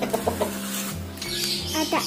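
Rooster clucking at close range on a farm where a duck is being bought, a few short rhythmic clucks followed by a louder cackle, with farm background noise beneath.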